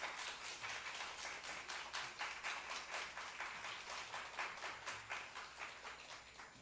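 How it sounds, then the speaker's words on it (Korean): A church congregation claps together in a steady rhythmic beat during a Sunday morning service, welcoming a visiting pastor; the claps are even and moderately distant, with no voice over them. "큰 박수와 하나님께 감사와 영광 박수 올려드리겠습니다."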